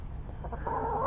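A chicken in a backyard cage clucks softly, a brief murmuring call over low background noise, fairly close.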